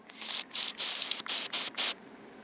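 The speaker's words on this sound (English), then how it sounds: "get your old spray and you just spray it on" Six short, sharp hisses of adhesive remover sprayed from an aerosol can, close and crisp, separated by brief pauses before going quiet.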